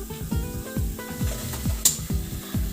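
Bread gulab jamun sizzle steadily in hot oil while a spoon stirs them, giving a continuous frying hiss broken by regular scraping strokes about twice a second, close up.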